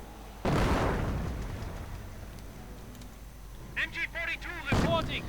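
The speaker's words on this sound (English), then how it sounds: "While the American mortars keep firing away merrily" Mortar rounds fire in a World War II strategy game, a heavy boom followed by a rumbling tail, then a second blast a few seconds later. Faint clattering battle noise sits between them, with no voices.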